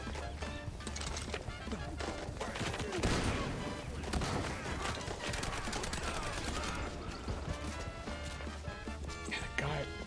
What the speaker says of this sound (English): The guys with the assault rifles are absolutely destroying me